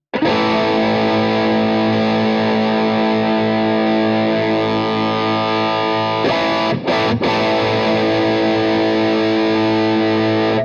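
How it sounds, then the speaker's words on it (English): Mini guitar amp driven into distortion as its gain cut switch is engaged: a loud fuzzy chord sustains, breaks off briefly with a quick stutter around two-thirds through, then a fresh distorted chord rings on to the end. "let's flick the gain, the cut switch"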